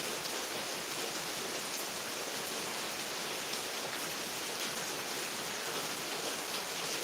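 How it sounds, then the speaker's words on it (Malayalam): Heavy rain pouring down in Ernakulam district, Kerala, a dense, even wash of rainfall with no pauses, steady and enveloping throughout, nothing else standing out. "അല്പനേരത്തേക്കും തോർന്നു നിൽക്കും അത് കഴിഞ്ഞ് പിന്നെ ഭയങ്കര മഴ പെയ്യും"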